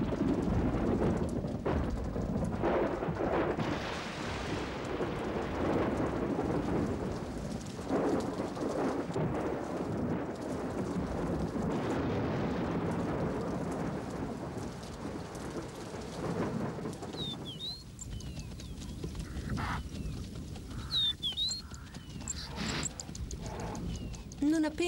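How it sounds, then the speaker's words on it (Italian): A thunderstorm in the savanna, with heavy rain falling steadily and deep rolling thunder rumbling throughout, loud and close, while a voice is also heard over the storm. "Appena nella savana cominciano i temporali"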